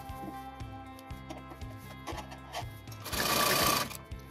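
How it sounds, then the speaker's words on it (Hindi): A sewing machine stitches along the side of a kitchen apron in close, steady rhythmic bursts with short pauses. It ends in a louder, faster run of stitching. "इसको इस प्रकार से रॉन्ग साइड में फोल्ड करेंगे और बिल्कुल इसकी साइड में एक सिलाई लगाएंगे।"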